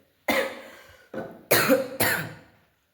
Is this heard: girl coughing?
yes